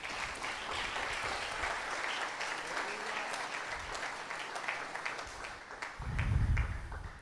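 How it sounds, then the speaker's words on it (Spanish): Congregation applause in a church, steady, dense clapping from a large group that carries on throughout, with a low rumble near the end and some voices mixed in. "Dele un aplauso al Rey."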